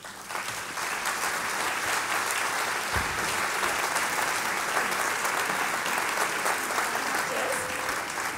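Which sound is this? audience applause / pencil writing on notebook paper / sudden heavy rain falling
audience applause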